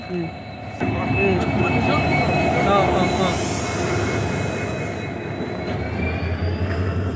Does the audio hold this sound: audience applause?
no